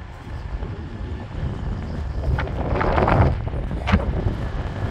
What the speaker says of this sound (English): The wind.